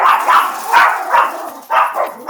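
A dog barks close by in a quick series of about five loud, sharp barks with short gaps between them, heard alone without speech.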